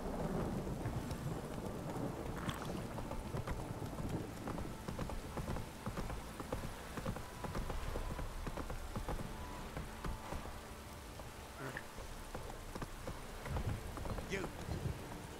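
Rain falls steadily in the video game Witcher 3, with rumbles of thunder and a few hoof clops mixed into the constant patter. A voice speaks over the weather.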